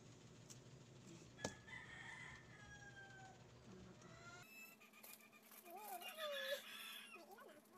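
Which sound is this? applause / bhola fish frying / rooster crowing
rooster crowing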